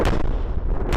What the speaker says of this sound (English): Bombardments and gunfire ringing out through the night in Gaza.